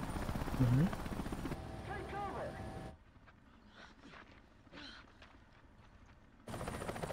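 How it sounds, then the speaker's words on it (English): A helicopter in the video game Resident Evil 5 gives a loud, churning rotor roar at the start and again at the end, while game voices and a player talk in the quieter middle. "Look, it's the helicopter."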